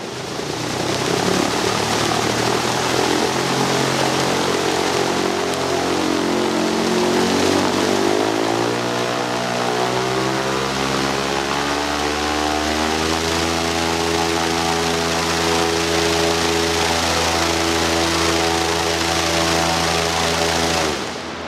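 Electric drive for a small aircraft spinning a propeller on a test stand, a loud steady whine and drone whose pitch climbs over the first ten seconds and then holds at high revs without pause.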